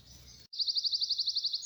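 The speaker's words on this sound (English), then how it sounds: "There's hardly a sound to be heard in the forest apart from the chirping of the birds in the distance" A single bird in a heathland pine forest gives a rapid, rhythmic series of high, thin chirps, about a dozen evenly spaced notes after a brief pause, fairly close and clear over a quiet background.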